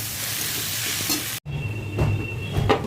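Taro (maan kochu) is stir-fried in an oily pan, a steady sizzle that cuts out for a split second and returns with scraping stirs and louder crackling bursts.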